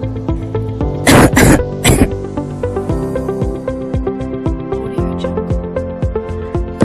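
Several sharp coughs and throat-clearing bursts come in a quick cluster early on, loud and close. They are followed by a run of evenly spaced clicks under a soft tonal background.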